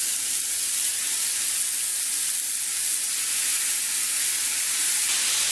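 Chorizo sausage and mushrooms sizzling in a pan, a steady, loud, even hiss of frying with no pauses.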